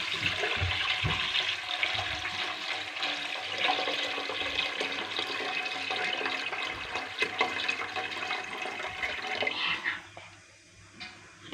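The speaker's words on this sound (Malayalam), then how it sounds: "വെള്ളം ഒഴിച്ചെടുക്കട്ടോ" Water pours in a steady rushing stream into a cooking pot for several seconds, then stops abruptly, leaving a few faint drips.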